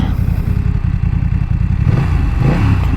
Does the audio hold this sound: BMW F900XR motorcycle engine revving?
yes